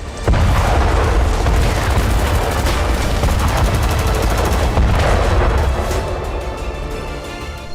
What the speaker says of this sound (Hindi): अस्पताल के पास बड़े धमाके हुए।